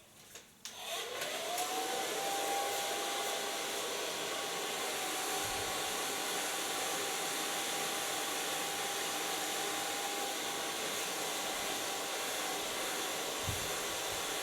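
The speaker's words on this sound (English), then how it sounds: "Start blow drying with an inch brush." A hair dryer blow-drying hair through a brush in a salon, starting up with a rising whine and then holding a loud, steady roaring hiss close by for the remaining length.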